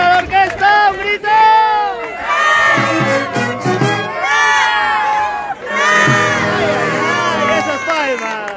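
A crowd at a Peruvian huayno orchestra performance from Sausa, Jauja, letting out loud, sustained shouts and whoops in two big waves, many voices overlapping with some music underneath.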